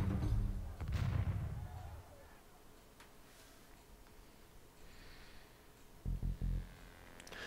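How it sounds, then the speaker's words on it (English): Cannon fire in a naval battle in Age of Empires II sounds as deep booming thuds at the start and again near the end, separated by quieter stretches of faint battle ambience. "the drone of splashing oars is finally drowned out by the thunder of cannon"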